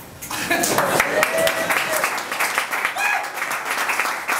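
An audience at a variety show bursts into clapping, starting sharply and continuing as uneven, crackling applause with a few voices mixed in.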